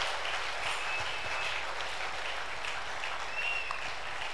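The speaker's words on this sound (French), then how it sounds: "nous pouvons continuer à l'acclamer pour exprimer notre reconnaissance" Church congregation applauding steadily throughout, a dense continuous wash of clapping at moderate distance with no clear breaks.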